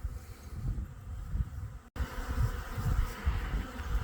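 Bees buzzing around their hives in early spring, a steady close hum of many insects with a brief dropout partway through.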